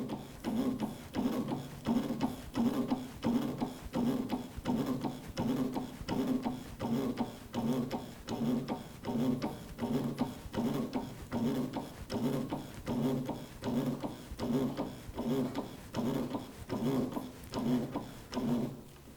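A drum lifter dispenser raising a drum: a steady mechanical cycling with evenly spaced, moderately quiet clunks about once a second, continuing throughout.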